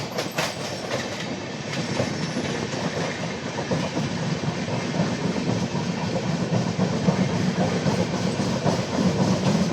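The Pune-Howrah Azad Hind Superfast, an LHB-coach express, runs on rails near Bhatapara. A constant loud rumble and wheel clatter is heard from on board, broad and steady throughout, with no talking.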